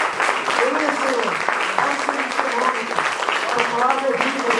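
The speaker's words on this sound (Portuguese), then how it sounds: "vamos aplaudir essa palavra" A church congregation applauds in worship, a steady, dense clapping that continues under voices speaking and exclaiming throughout.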